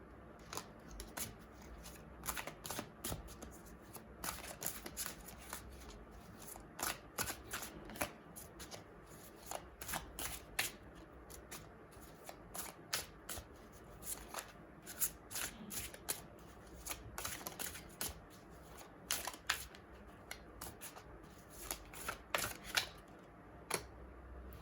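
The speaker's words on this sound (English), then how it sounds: "See, while I was shuffling, this card came out." Soft, repeated riffling of tarot cards being shuffled, quick papery bursts at an irregular rhythm, close but quiet, with no talking.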